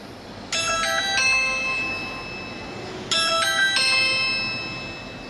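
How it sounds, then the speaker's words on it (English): A smartphone sounds a chime notification triggered by a Ring Doorbell 2 press, a bright multi-note ding-dong tone played twice in succession over faint room noise, with no talking. "you can actually just ring this and your phone will ring just like a chime"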